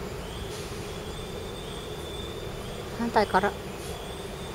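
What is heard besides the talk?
train passing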